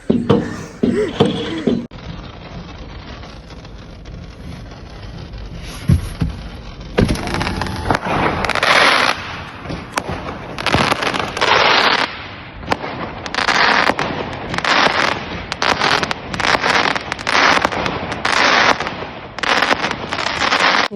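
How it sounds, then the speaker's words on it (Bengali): Fireworks burst outside a window, a dense run of sharp cracks and pops arriving in rapid irregular clusters after a quieter opening few seconds, loud and continuous to the end, with brief voices near the start. "এখানে ফায়ার ওয়ার্ক চলে কিছু আমি রেকর্ড করছি জানালাম"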